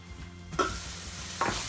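Prawns fry in a pan for a Malvani curry, a soft crackling sizzle broken by two quick stirring scrapes, close and fairly quiet with no voices.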